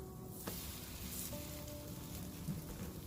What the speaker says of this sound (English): I'm going to now proceed to flip over my slice of bread